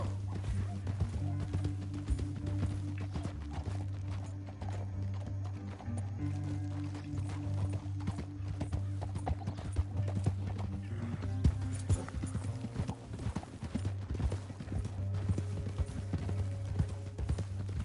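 Hooves pound in a fast, steady gallop for a long stretch in the video game Red Dead Redemption, with a low rumbling drone beneath and occasional faint voices.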